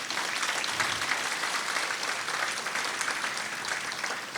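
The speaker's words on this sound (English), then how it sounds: "Please give them a round of applause." Sustained applause from an audience honoring veterans of special guerrilla units and the Lao Veterans of America at a Hmong American Day gathering, a dense, steady wash of many hands clapping throughout with no talking.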